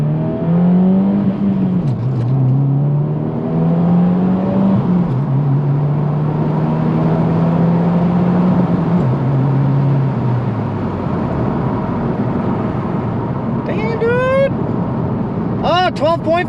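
Subaru WRX engine revving under throttle, a steady harmonic engine drone rising and falling in pitch, held near and loud, with a few brief higher whine chirps toward the end.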